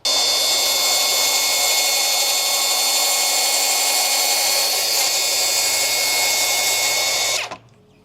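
A Milwaukee track saw whines loudly at a constant pitch as it cuts through large timber, then cuts out abruptly near the end.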